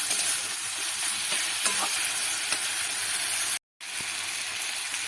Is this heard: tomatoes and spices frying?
yes